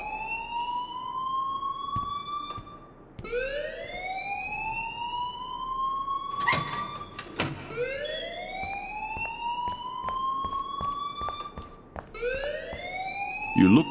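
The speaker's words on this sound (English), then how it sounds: "please turn off that alarm since that's your job." A school alarm in the video game Life Is Strange wails in repeated rising siren sweeps, each climbing then holding, cycling about every three seconds at steady loudness with a few sharp clicks in between.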